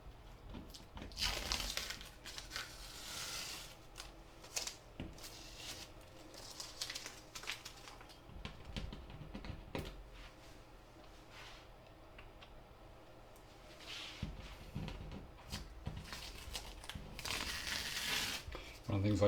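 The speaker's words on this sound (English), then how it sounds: "take the tape off" Masking tape is peeled slowly off the edges of a watercolour landscape painting, giving repeated close, crinkly tearing bursts at an uneven rhythm over a quiet room.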